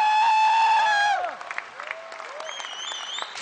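Audience applause at a Bollywood mimicry stage show, a dense clatter of clapping that follows a sustained sung or mimicked tone and carries on fairly evenly under scattered crowd noise.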